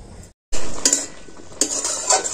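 A pot of bottle gourd is stirred with a metal spoon, then clanks as a lid goes on, a short cooking sizzle continuing between the scrapes and clinks after a brief silent gap.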